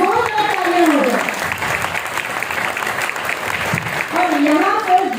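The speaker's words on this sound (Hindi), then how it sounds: "एक बार जोरदार तालियां हो जाए।" A crowd claps loudly and steadily for several seconds while a voice speaks over the applause.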